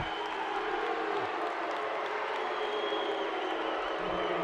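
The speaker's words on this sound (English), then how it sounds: "you can hear the crowd's reaction to that one" Crowd at a high school boys basketball state tournament game reacting to a no call, a steady, dense roar of voices and cheering filling the gym at moderate distance.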